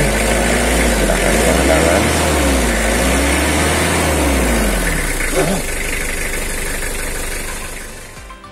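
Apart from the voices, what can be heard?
Mitsubishi L300 2011 engine idling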